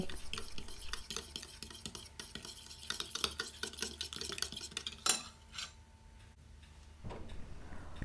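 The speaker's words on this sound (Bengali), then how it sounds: "দুধ দিয়ে আমি চিনিগুলো গলে যাওয়া পর্যন্ত এভাবে নেড়ে নেড়ে ভালো করে মিশিয়ে নেব" Milk and sugar stirred together in a pan, soft rapid scraping and light clinking of a spoon against metal, close and fairly quiet, with a brief louder knock partway through and no talk.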